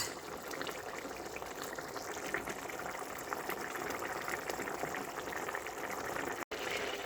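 Mutton keema simmering uncovered in a pan as its water boils off, a steady soft bubbling and hissing that holds at an even level throughout with no talking.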